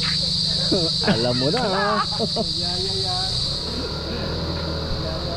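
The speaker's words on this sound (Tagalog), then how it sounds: "Kahit araw may kuliglig." Crickets chirp in daytime in a rural outdoor setting, a steady high-pitched insect drone running continuously under people talking nearby.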